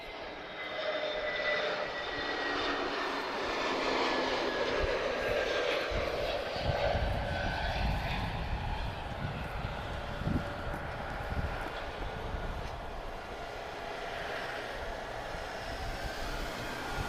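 An Airbus A321neo arriving at Lisbon Airport, its engine roar loud and steady throughout with a whining tone that slowly descends, heard from nearby and alone.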